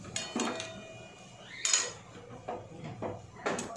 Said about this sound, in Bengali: ঝোলটা আমি ঢেলে নেব